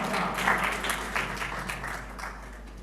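Applause from a stage event audience, a dense crackle of many hands clapping at a steady, moderately loud level for a few seconds.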